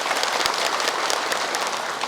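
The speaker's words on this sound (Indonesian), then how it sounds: "Boleh tepuk tangan." A studio audience at a televised Islamic religious program breaks into sustained applause, a thick, continuous crackle of many hands with a few sharper claps standing out.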